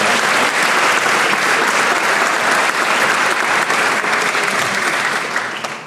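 Dense, steady audience applause fills a room at a Chamber of Commerce small business recognition awards ceremony, loud and sustained throughout before tapering slightly at the end.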